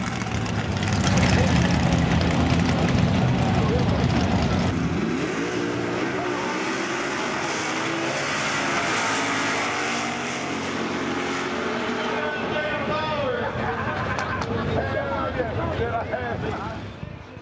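A Ford Fairlane Thunderbolt and a red, white and blue Sox and Martin Hemi Duster roar off the drag strip line, a loud rumbling engine burst that thins and fades as they pull away, with an announcer talking over it.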